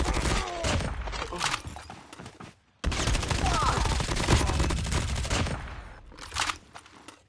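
Rapid bursts of automatic gunfire and shots in a mobile battle-royale shooter game, loud and dense with a brief gap, with faint voices underneath.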